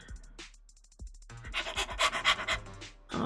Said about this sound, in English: a dog comes tearing out of the bushes, headed straight for you